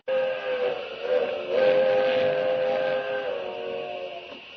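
A train whistle blowing in one long, steady, loud blast over a rumbling approach, lasting several seconds before easing off slightly at the end.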